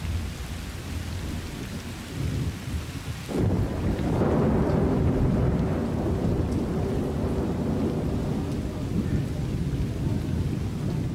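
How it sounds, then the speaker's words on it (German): A heavy rainstorm, the first of the season, pours down in a Madagascar forest, with thunder rumbling beneath steady loud rain that suddenly intensifies partway through and continues as a dense, close downpour. "Seit Monaten fällt der erste, lang ersehnte Regen."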